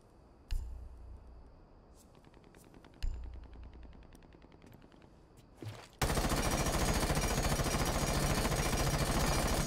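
An IQ LMG light machine gun in Rainbow Six Siege starts with a few separate loud shots, then breaks into a sustained rapid burst of automatic fire that fills the last few seconds.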